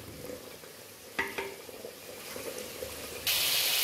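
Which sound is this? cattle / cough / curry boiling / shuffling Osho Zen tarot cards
curry boiling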